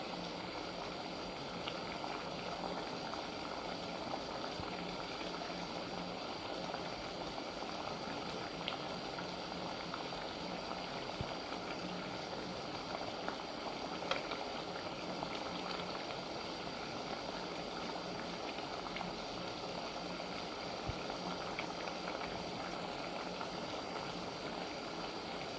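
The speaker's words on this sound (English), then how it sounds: "it's very heavily boiling, so there's lots of steam bubbles coming" Water boiling heavily in a vessel, with many steam bubbles rising from the surface; a steady, dense bubbling and hissing continues evenly throughout, alone with no voices.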